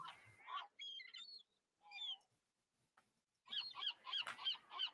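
Seagull cries play as a sound effect in a MakeCode Arcade game, honking calls that come in short bursts with pauses between them, then a denser run of repeated squawks at the end.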